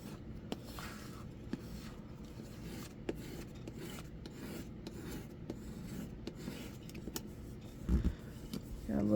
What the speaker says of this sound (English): just give it a nice even burnish, just like so